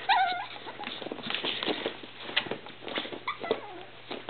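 An eight-week-old puppy whimpers and yips in short, high, wavering cries, close by and fairly quiet, with light pattering and rustling around it.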